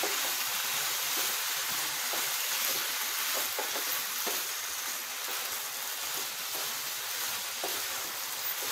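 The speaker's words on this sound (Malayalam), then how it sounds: "1 സ്പൂൺ വിനീഗറും കൂടി ചേർത്ത് നമുക്കിത് നന്നായിട്ടൊന്ന് ഇളക്കിയെടുക്കാം." Soya chilli with a spoonful of vinegar being stirred in a hot pan: continuous sizzling hiss with scattered spoon scrapes and taps against the pan, close and steady, no voices.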